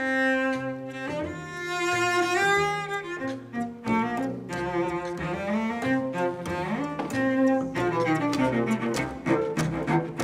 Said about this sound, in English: So if you've never heard the cello sing before